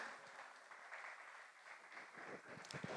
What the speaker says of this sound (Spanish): este es Carlos Prada, vamos a darle un aplauso grande por su historia,